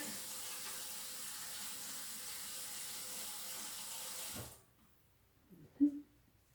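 Water pours steadily from a tap into a pot for lentil soup for about four seconds and then stops, followed by a brief clunk.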